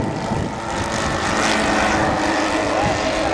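A model Lancaster bomber flies at the Woodspring Wings model show, its propeller engines giving a steady, fairly loud droning buzz that swells slightly as it passes overhead.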